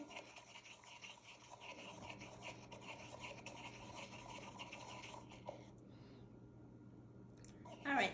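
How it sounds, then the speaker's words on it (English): A thin mixture is stirred steadily in a container, a soft, continuous scraping and rubbing close by with a faint hum underneath. A quiet voice is heard at times. "I'm gonna keep stirring."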